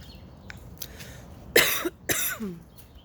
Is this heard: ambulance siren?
no